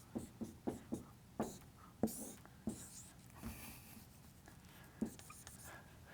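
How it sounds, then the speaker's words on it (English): A pen or marker taps and scratches across a board while Newton's second law is written out by hand, a string of sharp strokes, then a pause and one last stroke, with faint whispering in the background. "I'm going to write it in a long way,"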